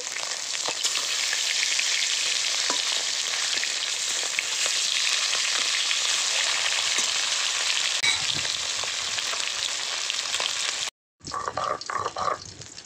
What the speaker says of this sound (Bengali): এদিকে মাছগুলো এক পাশ ভাজা হয়ে গেছে, এবার উল্টে নেব।